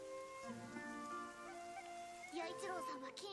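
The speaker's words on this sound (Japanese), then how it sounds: "雨やな、雨でしたね。" Rain falls steadily in the anime Uchouten Kazoku, a soft, even patter beneath a musical score and a voice.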